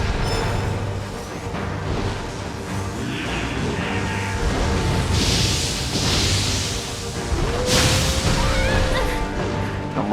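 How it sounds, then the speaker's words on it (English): Explosions in the action game Nioh 3 burst through a dense, noisy game soundtrack, with heavy crashing blasts around the middle and another near the end. "double explosion"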